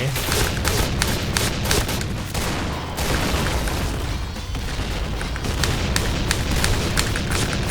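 Rapid bursts of gunfire in a PUBG-style battle royale game, dense and continuous with booming shots across the whole stretch, loud and close.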